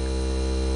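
A brand new vacuum pump runs with a steady, loud, tonal electric hum, unbroken for the brief moment and with no talking.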